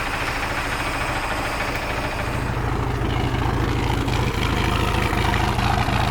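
A repaired Regal boat's engine idles steadily and close by, a continuous low rumble with a faint knocking pulse and no voices.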